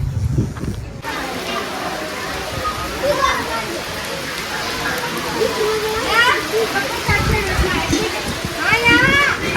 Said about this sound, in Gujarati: વરસાદ પડી ગયો છે મિત્ર જોઈ શકો છો